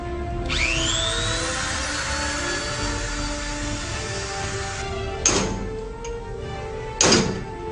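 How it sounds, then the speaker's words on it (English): A Dremel rotary tool scoring a tooth, a steady high whine that spins up and runs for several seconds, followed by two brief sharp bursts as the bit touches the tooth. "Now I'm going to score the tooth with a Dremel tool."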